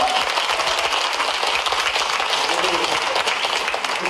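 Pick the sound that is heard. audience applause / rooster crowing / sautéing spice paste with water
audience applause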